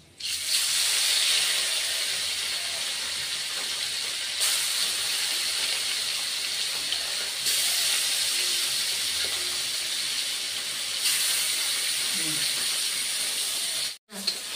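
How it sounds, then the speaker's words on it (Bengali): Small rui fish, a second batch, frying in a pool of hot oil, giving a loud, steady broadband sizzle and hiss that runs almost continuously, with brief swells in intensity and a sudden short dropout near the end. "দ্বিতীয়বারের মাছগুলি দিয়ে দিচ্ছি, ওই তেলের মধ্যেই দিয়ে দিচ্ছি।"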